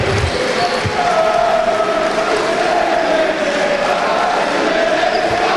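A crowd at an Italian Serie B basketball game between Omnia Pavia and Vigevano keeps up loud, sustained applause and cheering, a dense roar with a commentator talking over it.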